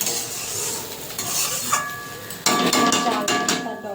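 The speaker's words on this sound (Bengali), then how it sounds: "এবার আমি এখানে উষ্ণ গরম জল দিয়ে দেবো" Warm water pours into a pan of frying pulao rice, raising a loud, steady hiss and bubbling sizzle that jumps sharply partway through and carries on strongly to the end.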